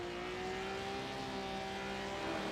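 A race car idles in the pit lane at Silverstone in the iRacing sim, its engine a faint, steady tonal hum with a slight rise in pitch toward the end.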